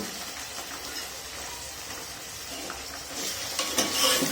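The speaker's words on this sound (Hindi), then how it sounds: "मैं इसको फ्राई कर रही हूँ" About a quarter kilo of meat sizzling and frying in a hot pot, a steady crackling hiss that grows louder as it is stirred near the end.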